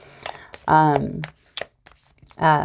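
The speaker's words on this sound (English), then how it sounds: "we're not doing the jumpers yet because I'm not done shuffling" Tarot cards are being shuffled in quick riffling bursts, with crisp papery flicks between spoken phrases as a voice talks over and around them.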